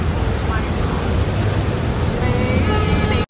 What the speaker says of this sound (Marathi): असं वाटतं नदीमधून गाडी चालली.